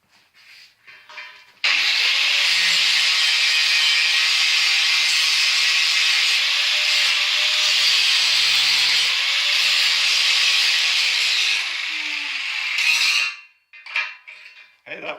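A grinder works steadily on a metal nut held in a vice, a loud continuous high-pitched grinding that runs unbroken for about ten seconds, close by, with brief clatter before and after.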